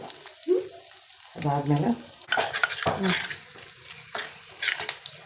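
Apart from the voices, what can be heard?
mustard seeds, dried red chillies and asafoetida sizzling in oil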